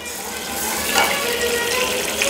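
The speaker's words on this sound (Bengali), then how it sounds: "আমি এবার দুটো কারি পাতা আর কাঁচা লঙ্কা ফোড়ন দিলাম, আর তার সঙ্গে দেবো আমি কালো জিরে, আদা দিলাম" Curry leaves, green chillies, nigella seeds and ginger sizzling hard in hot oil, a dense steady crackling hiss up close with no voices.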